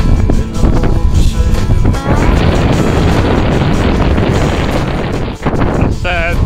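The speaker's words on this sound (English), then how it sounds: "That's how windy." Strong coastal wind roars loudly and steadily across the microphone throughout, with gusty buffeting and a brief dip near the end.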